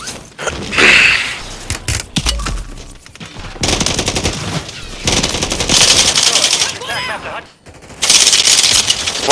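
Rapid automatic gunfire in a battle-royale video game, bursts of machine-gun fire recurring loudly through the clip with a player talking over it.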